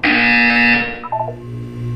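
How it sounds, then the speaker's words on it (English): A loud buzzer from the Portal 2 video game wellness exercise holds a steady harsh electronic tone for about a second, then breaks into a few short chirping blips before fading to quiet room tone. "When you hear the buzzer, look up at the ceiling."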